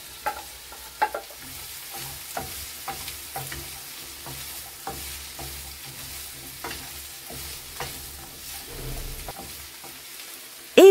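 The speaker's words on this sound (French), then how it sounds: "Puis on met l'oignon et on le mélange bien avec l'huile." Chopped onion sautéing in a few spoonfuls of oil over low heat, a steady soft sizzle broken by repeated scraping stirs of a utensil against the pan, close and alone without voices.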